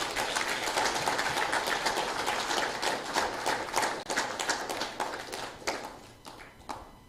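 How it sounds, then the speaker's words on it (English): Audience applause at the Eastern Caribbean Central Bank's launch of a commemorative EC$2 note. The clapping is steady, dense and fairly close, then thins and fades out toward the end. "Please give the ECB a big round of applause"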